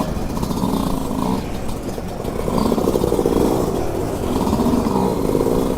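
A 2022 Yamaha YZ dirt bike engine, 125 or 250 two-stroke, revs and crackles nearby in bursts of rising and falling throttle, loud and rough.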